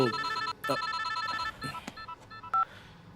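A telephone rings in repeated bursts of electronic trilling, loud and close, then breaks into a few shorter beeps and tones near the end, with no talk over it.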